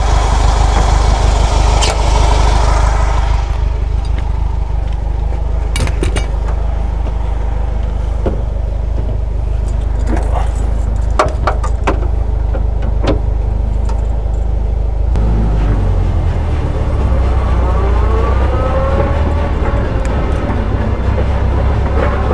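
A Wehrmacht Kübelwagen Type 82 fitted to run on railway tracks drives along the rails. Its engine and rolling rumble are loud, close and continuous, and the tone shifts partway through.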